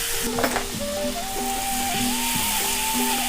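A paste of cashews, tomato, ginger and green chili sizzles in a pan for shahi paneer, a continuous bright frying hiss under a melodic background tune.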